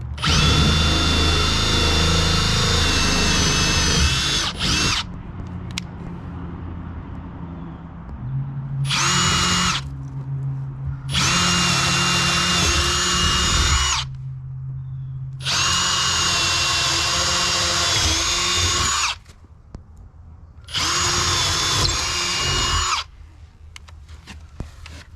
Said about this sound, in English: I'm going to start by using my drill. I'm going to drill some corners